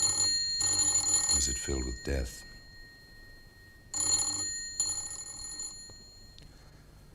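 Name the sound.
telephone bells ringing in an empty house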